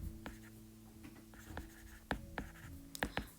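A pen or marker scratches and taps across a writing surface in short irregular strokes while a biology exam answer is worked through, faint and close against a steady low hum, with no speech.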